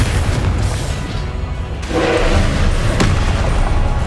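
A Confringo spell explodes in the Hogwarts Legacy video game, giving a loud booming blast with a second burst after it over continuous low rumbling game sound.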